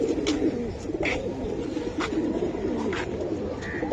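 Silver Giribaz pigeons coo softly and repeatedly, close by, their low throaty burbles rolling in an uneven rhythm over faint background noise, with a few brief higher chirps mixed in.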